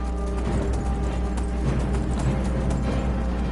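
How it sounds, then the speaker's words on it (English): Hoofbeats of Shadowmere, the black horse in the video game Skyrim, clip-clop steadily at a gallop amid dense game audio, loud and continuous throughout. "Why is my horse, like, so violent? He wants to fight everyone."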